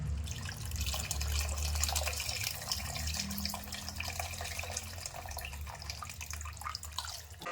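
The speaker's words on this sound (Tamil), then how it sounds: "இப்போ நம்ம திட்டமாக தண்ணி ஊற்றிக்கணும்" Steady rush of water streaming into a cooking pot for a lake fish curry, continuous and fairly close, with no voices over it.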